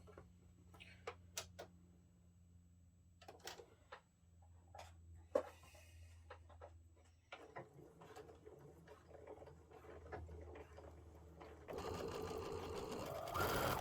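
A home sewing machine on its automatic setting stitches pieced quilt fabric for a Bargello spring table runner, running in short bursts with clicks and pauses, then a steady, louder run of stitching near the end.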